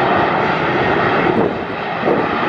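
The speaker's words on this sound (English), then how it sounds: "Two 737s." Boeing 737 jets roar steadily at Atlanta airport, a loud, continuous broadband engine rumble close by with no talk.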